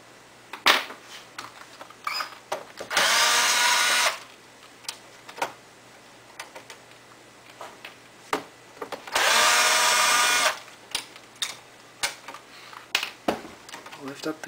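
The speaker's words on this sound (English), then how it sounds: "we're going to remove screws that hold the memory card ports in." A power screwdriver backs screws out of the memory card ports inside a PS3 console, two sustained whirring bursts of about a second each, close and loud, separated by handling clicks and taps, with a person talking between them.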